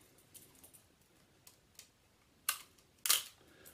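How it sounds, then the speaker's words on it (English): An old SLR film camera's film winder being wound, producing faint small ticks followed by two sharper, louder mechanical ratcheting clicks near the end, heard close up in a quiet room. "But what happens is, you wind the winder."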